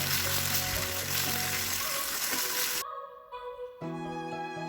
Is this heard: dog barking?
no